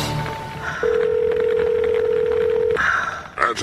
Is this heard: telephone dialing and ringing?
yes